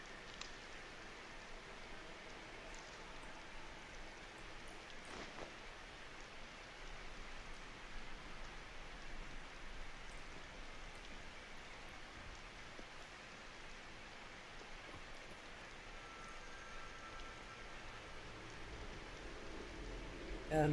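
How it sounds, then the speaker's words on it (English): Rain falls in the video game Skyrim, a soft even hiss of steady rainfall heard faintly throughout with little variation. "It's raining."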